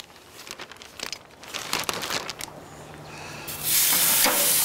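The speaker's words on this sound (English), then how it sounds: "Wow, listen to that thing sizzle." Marinated lamb chops sizzle on grill grates, a crackling, spitting hiss that starts sparse and builds into a loud, steady sizzle near the end, with no talking.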